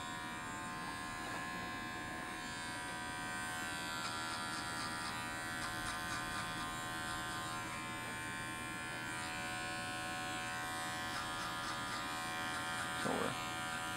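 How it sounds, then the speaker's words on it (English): Hair clippers buzz steadily and fairly quietly against the skin during a skin fade haircut, holding one unbroken electric drone with slight wavering. "make sure you have the clipper laid up against the skin"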